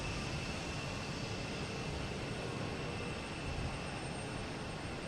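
A JetBlue Airbus A220 arriving from Chicago at Boston Logan Airport gives a constant broadband jet roar, steady and unbroken, with no talking.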